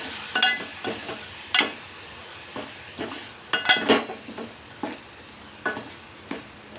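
Lima beans (pavta) fry in roasted masala while a spoon stirs them, with a soft sizzle underneath repeated close scrapes and metallic clinks against the pan.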